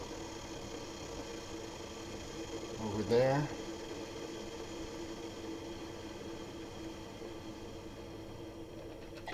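A drip coffee maker starting up and heating water gives a steady low mechanical hum and gurgle throughout. Someone talks over it, and there is a brief louder rise partway through.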